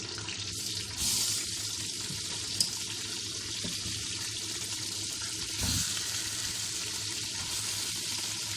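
Cooked meat frying in oil, a continuous hiss of sizzling fat with a couple of louder surges and a faint clink, heard close and steady.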